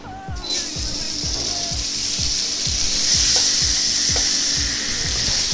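Meat sizzles loudly in a pan of walnut oil, a bright, hissing fry that swells just after it hits the hot surface and holds steady, with a regular low clicking underneath and no speech.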